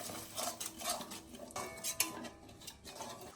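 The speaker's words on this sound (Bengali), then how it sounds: "গ্যাসটা খুব একদম সিমে করে দিয়ে দইটা দিয়ে একটু কষিয়ে নেব।" Spoon clinking and scraping against a pan while stirring spice masala with curd over low heat, light irregular metallic taps and scrapes up close.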